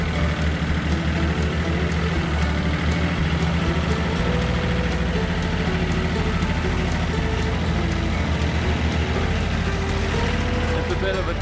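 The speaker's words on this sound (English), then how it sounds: "looks like the tractor's about warmed up" A tractor engine idles steadily after warming up, a deep continuous low rumble with a constant throbbing tone that holds level throughout, close and fairly loud, with faint talking mixed in beneath it.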